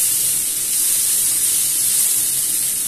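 Garlic frying with vegetables in a pan gives a steady, close, bright sizzling hiss that runs evenly throughout without pause.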